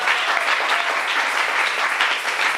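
A church congregation applauds during a French-language sermon, with steady, dense clapping from many hands that continues without a break.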